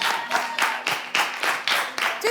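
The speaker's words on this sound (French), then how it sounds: "On raccompagne Monsieur Roch avec les applaudissements du public." A studio audience applauding on a television game show, dense clapping that swells and dips in short waves of roughly half-second pulses, close and fairly loud throughout.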